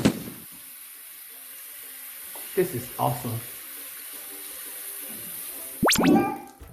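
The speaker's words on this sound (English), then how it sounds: "rinses his hands off" Tap water runs steadily into a sink while a toddler rinses his hands under it, with splashes rising as the hands move through the stream and a brief spoken exclamation near the end.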